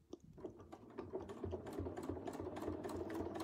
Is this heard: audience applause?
no